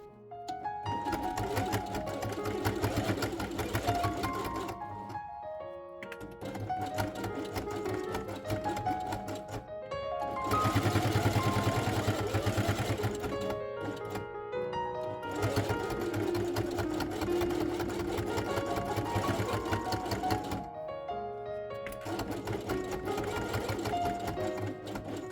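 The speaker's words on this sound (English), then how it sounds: "Turn this element over, then place head on top and sew along the edge." A sewing machine stitching fabric pieces for a koala page of a quiet book, long runs of fast rhythmic mechanical whirring broken by a few short pauses, close and loud, no talking.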